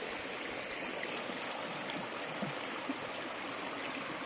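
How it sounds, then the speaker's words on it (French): A small spring-fed stream trickles and babbles steadily, soft and continuous, with no voices. "Et vous voyez cette petite eau de source? Le bruit est magnifique."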